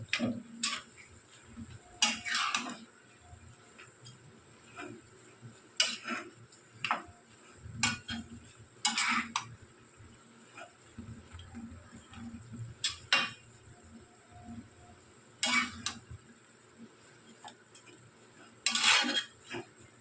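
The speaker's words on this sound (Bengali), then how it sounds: "জবা ফুল দিয়ে আর একটুখানি আমি আঁচ কমিয়ে নাড়তে থাকবো।" Hibiscus flowers stirred in hair oil in a metal pan over low heat, irregular light clinks and scrapes of a spoon against the pan amid quiet gaps.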